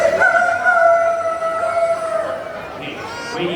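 A voice imitates a rooster crowing, one long wavering cock-a-doodle-doo call drawn out and fading, close and loud, with faint crowd murmur behind it.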